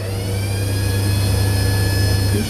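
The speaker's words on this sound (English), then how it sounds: "It's getting turned on for no particular reason. There's nothing waving underneath it, but it's just going off." A hand dryer runs steadily in a public toilet, a loud continuous whirring drone with a strong low hum that holds unbroken for the whole stretch before cutting off near the end.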